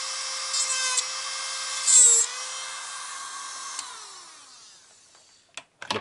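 High-pitched whine of a micromotor drill spinning steadily while centering holes on the points of a metal Roman dodecahedron replica, close and loud, briefly bogging under load, then winding down to a few small clicks.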